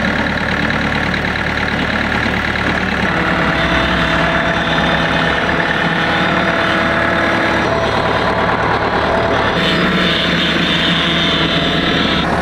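A tractor engine runs steadily and fairly quietly at a homestead, a continuous low idling rumble with a mechanical hum that stays even for the whole stretch, close by and with no talking over it.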